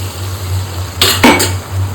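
Water splashes into a hot pan where a fish head masala is frying, giving a brief loud sizzling hiss and rush of bubbling over a steady low kitchen hum, then quickly dying back down.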